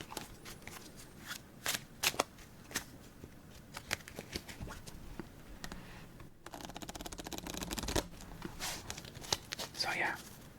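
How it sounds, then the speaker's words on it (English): A deck of playing cards is shuffled in a series of crisp riffles and taps, close and quiet, with a soft voice speaking intermittently. "Let's just give this one more shuffle."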